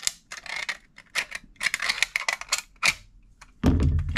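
Soda can aluminium being cut halfway down the middle between two folded flaps, heard as a series of close, crisp snips and crinkles in short bursts, ending with a louder handling clatter.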